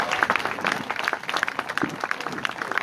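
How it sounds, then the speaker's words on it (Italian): A crowd applauds a guest being welcomed onto the stage at an evening event in a villa at Montegrotto Terme, steady dense clapping across the whole stretch, fairly close and moderately loud, with no talk over it. "accogliamolo con un grandissimo applauso"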